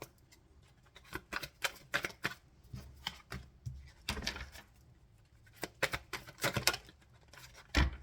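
Tarot cards being shuffled and handled, with a run of quick papery riffles and slaps in irregular bursts, close and fairly quiet, with no talking.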